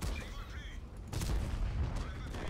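In the World of Tanks video game, a tank cannon fires with a sudden loud boom that cuts in mid-clip and rumbles on, following quieter engine and battle noise before it.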